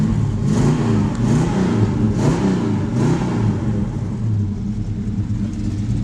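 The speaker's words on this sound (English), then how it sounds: "Rev it up a little bit." A 440 Wedge V8 in a 1966 Dodge Charger fastback rumbles loud and close, with a few quick revs rising over its deep, throaty idle before settling back.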